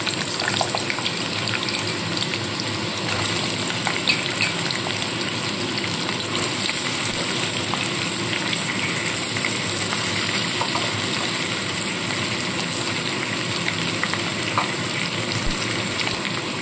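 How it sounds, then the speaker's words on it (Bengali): Potato pieces fry in hot oil for a vegetarian mixed-veg curry, a dense, steady hiss like running water that holds evenly throughout, close and fairly loud, with no voices. "প্রথমে আলুগুলোকে ভেজে তুলে নিচ্ছি"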